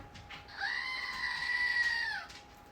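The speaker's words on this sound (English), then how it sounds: "You gotta get the screaming goat." A screaming goat novelty toy lets out one loud, sustained, human-like scream lasting almost two seconds, close to the listener, with a faint pause before and after and no talk.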